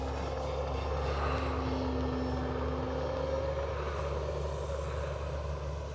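An FMS PA-18 Super Cub RC model airplane, 1.7 m span, flies with a steady, fairly loud propeller drone that holds throughout.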